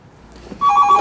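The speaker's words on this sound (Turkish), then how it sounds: "babacığım bu telefon bağlanabilir" A telephone starts ringing partway through, a loud close electronic trill after a quiet room background, with no talking.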